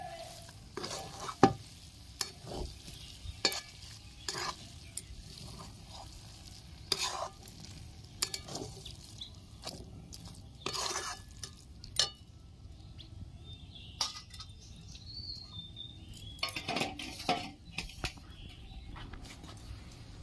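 Banana flower ghonto with ghee is stirred in a pan, with a steady soft sizzle under intermittent scraping strokes of a spoon against the pan over about twenty seconds, fairly quiet and close.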